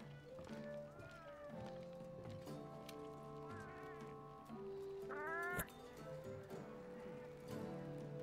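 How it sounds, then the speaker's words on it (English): A cat companion in Monster Hunter World meows several times over looping game music and effects, with short rising calls standing out near the middle. "See, there's my cat, Scarecrow."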